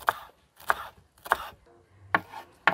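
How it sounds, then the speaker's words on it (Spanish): A knife chops cilantro on a cutting board, five sharp, evenly spaced thuds close up with quiet gaps between strokes. "Primero voy a picar el cilantro."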